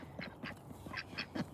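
Ducks quack outdoors in a series of short, nasal calls, several overlapping at moderate distance over a faint background hiss, with no talk over them.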